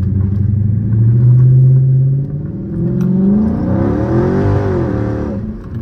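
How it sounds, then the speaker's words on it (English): A Chrysler 300 SRT 392 revs hard on a back road with its tires spinning, a loud, rising and falling V8 roar that surges, dips and climbs again over several seconds, with no talk. "The tires just spin so much"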